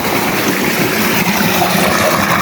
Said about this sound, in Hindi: पानी चल रहा है, ये देखिए